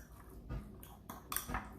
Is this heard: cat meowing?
no